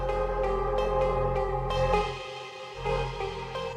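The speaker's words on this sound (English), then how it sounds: "We've got the sound color effects for each individual channel, including space," Electronic dance music plays through the space sound color effect on an AlphaTheta XDJ-AZ DJ controller, with a washed, reverberant tail and a brief dip in the bass partway through.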